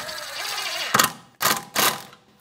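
A socket ratchet tightens 10 mm bolts on the rear parking brake cable housing of a 2013–2018 Toyota RAV4, giving a whirring spin followed by two short, close clicking bursts.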